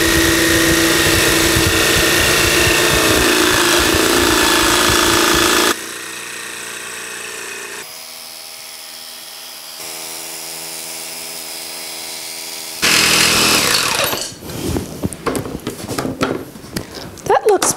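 Power saw cutting a notch into wood for a DIY backpack: a loud, steady whining motor that drops to a quieter hum midway, then returns with rough, uneven cutting bursts near the end.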